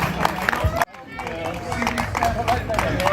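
Crowd applause with some cheering at the 2024 Manwell Cup award ceremony, honouring the runners-up team, Street Angels. It is steady and fairly close, dips sharply for a moment, then swells back to a dense, continuous roar.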